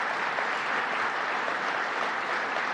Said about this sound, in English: So to all the people who work with this great company, I want to give you a round of applause.